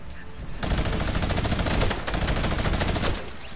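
A Fortnite minigun fires in continuous rapid spam, a loud, dense, unbroken roar of shots lasting about two and a half seconds with a brief dip midway, then cutting off abruptly.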